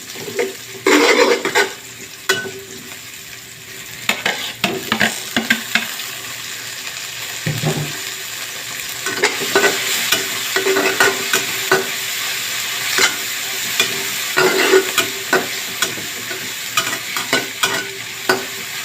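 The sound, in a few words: stirring and frying bitter gourd (ampalaya) with egg in a pan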